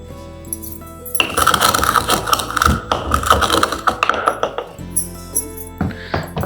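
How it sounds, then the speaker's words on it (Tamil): Long pepper and a pinch of alum are pounded together with a pestle, producing a rapid run of close, sharp metallic knocks and clinks, then a few slower separate strikes, with no speech over them. "இதோட ஒரு சிட்டிக்கை அளவு படிகாரம் அதையும் சேர்த்து இடிச்சிடலாம்."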